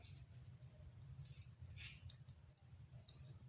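Scissors snip through natural hair during an at-home haircut, with a single sharp close cut standing out over a low, steady background hum.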